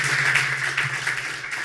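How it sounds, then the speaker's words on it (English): Brief audience applause at a press conference, a steady patter of many hands heard close, with a low constant hum beneath it. "Let's extend another round of applause to Kent"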